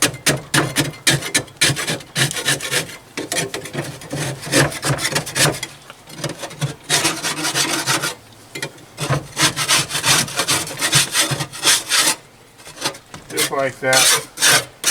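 A scraper rasps repeatedly across the dirty interior of a Pit Boss grill, rhythmic harsh scraping strokes with short pauses between, close and loud, with someone speaking briefly.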